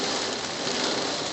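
Steady rain pours during a June 2012 thunderstorm, a dense, even hiss of drops on surfaces, close and fairly loud, with no speech over it.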